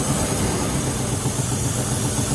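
A 1997 Land Rover Discovery engine runs steadily and close with an exhaust leak, giving a loud, continuous rough rumble with a breathy hiss and no break.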